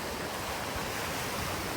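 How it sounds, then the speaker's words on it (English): Surf washes steadily onto the beach at the Riu Palace in Punta Cana, Dominican Republic, a continuous broadband roar of breaking waves mixed with wind buffeting the microphone, close and even throughout. "We just arrived here at the beach of the Riu Palace"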